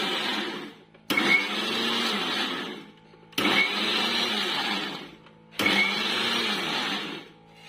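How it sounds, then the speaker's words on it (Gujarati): A kitchen mixer grinder crushing biscuits for a biscuit cake, run in pulse mode: four close, loud bursts of whirring motor noise, each about two seconds long and separated by brief silent pauses. "આપણે આ રીતે ચાલુ બંધ અને પલ્સ મોડમાં ક્રશ કરવાનું."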